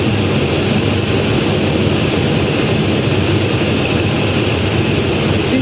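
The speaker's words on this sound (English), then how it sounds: "You see the tow plane kind of dropping away." Loud, continuous propeller-engine drone from a tow plane during a glider tow, a steady unbroken roar with no talking.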